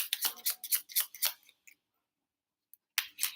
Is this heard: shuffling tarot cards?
yes